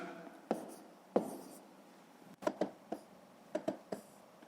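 Pen strokes write numbers while working a sixth-grade math division exercise: short scratchy bursts in small clusters with pauses between, close and fairly quiet.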